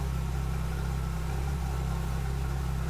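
A Jeep CJ7 six-cylinder engine idles steadily during a points ignition tune-up, a low, even rumble with a smooth pulsing hum, close and constant with no revving.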